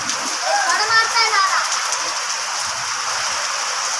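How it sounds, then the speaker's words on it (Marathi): Heavy first rain of the season pours steadily over a village, a constant dense hiss of drops on surfaces throughout, with a few faint birdlike chirps near the start. "किती पाऊस पडतोय बघा"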